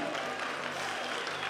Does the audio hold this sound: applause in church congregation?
yes